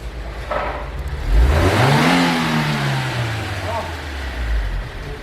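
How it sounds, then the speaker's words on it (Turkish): A Fiat Palio 1.2 engine revs up, its pitch climbing and then sliding back down toward idle, loud and close, with a voice speaking over part of it. "Araç şu anda gazda."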